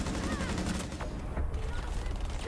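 A shotgun blast in a Valorant-style tactical shooter match, dense gunfire crackling throughout amid game noise with voices talking over it.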